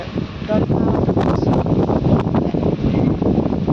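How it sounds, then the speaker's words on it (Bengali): Steady, loud gusting wind from Cyclone Remal buffets the microphone, a continuous roar with rustling bursts throughout and no clear pauses. "প্রচণ্ড জোরে হাওয়া দিচ্ছে।"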